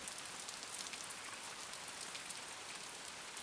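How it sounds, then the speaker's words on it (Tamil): Heavy rain pours down outdoors, a dense, steady hiss of drops striking surfaces that stays loud and unbroken throughout, with no voices. "வெளியில மழையும் நல்லா ஜோரா கொட்ட ஆரம்பிச்சது திரும்பவும்."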